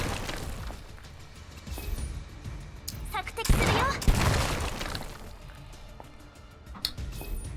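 A shotgun fires in a video game as a short cluster of loud, sharp blasts in the middle of the clip, standing out over steady game background sound.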